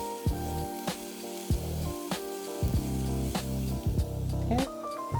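Onions and garlic sizzle in a pot, a steady frying hiss broken by stirring clatter and brief bursts of louder spattering.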